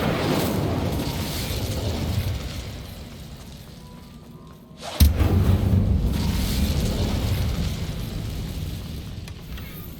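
A fire spell erupts in the Hogwarts Legacy game: a steady crackling rush fades, then a sudden loud burst flares up midway and keeps roaring, close and full.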